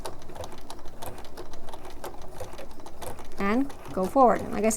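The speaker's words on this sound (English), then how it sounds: "So we're going to take a couple stitches, then we're going to back stitch" A sewing machine stitches an appliqué edge for a beginner's quilt, running in short whirring bursts and back-stitching, with someone talking over the steady mechanical rattle.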